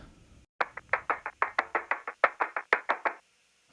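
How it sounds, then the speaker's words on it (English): A sampled clap loop from a song build-up, about fifteen sharp, evenly spaced claps in a quick steady rhythm, bright and close, starting after a brief quiet moment and stopping abruptly. "I took this little clap loop"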